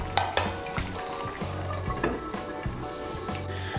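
Slit green chillies frying in a pan of cauliflower curry: continuous sizzling with repeated stirring strokes and light clinks of a spoon against the pot, no talking.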